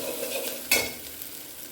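Chillies, vadagam and asafoetida fry in hot oil, making a steady close sizzle with one brief sharper crackle or stir about midway through.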